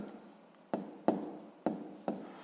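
A pen scratches out a sixth-grade math solution on paper with four quick, separate strokes, each starting with a soft tap and fading out. The sound is faint and close, in a quiet room.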